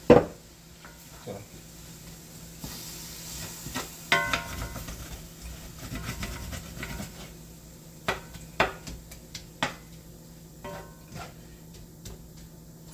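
Tacos frying in a pan on a home kitchen stove, giving a soft, steady sizzle with occasional stirring scrapes and clinks of utensils and cookware, fairly quiet and close, with no talking.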